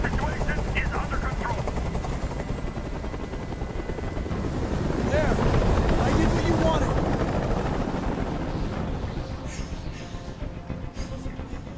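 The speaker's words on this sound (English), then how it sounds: "Tell that helicopter to get out of here" A loud, steady video game helicopter rotor thrums continuously, with scattered gunfire-like bursts and voices mixed in.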